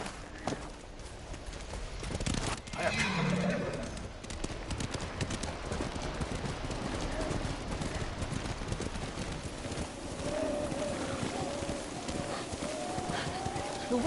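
Horse hooves galloping steadily in Ghost of Tsushima as a rider travels through worsening snowy weather toward Kyoto, a continuous rhythmic clip-clop under light ambient wind, with a brief louder swell early on.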